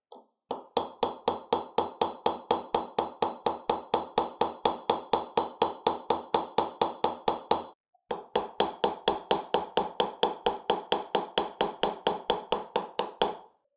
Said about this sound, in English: So I'm using a nylon hammer, and I'm going to start planishing from the top of the form